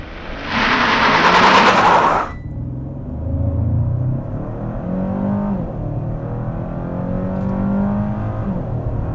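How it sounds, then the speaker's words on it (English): 2021 Hyundai Sonata N Line with a 2.5-liter turbo four-cylinder making a launch-control start: a loud, harsh roaring burst of acceleration for about two seconds, then a lower engine drone that rises and falls as it pulls away. "2021 Hyundai Sonata N Line with launch control."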